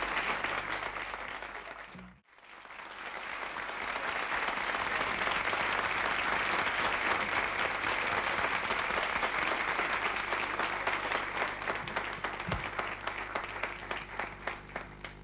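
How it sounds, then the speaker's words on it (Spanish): Sustained applause from a television studio audience at a 1981 gala night of María Marta Serra Lima, honoring guitarist Cacho Tirao, with a brief dropout near the start before dense clapping fills the rest. "Renovamos el aplauso"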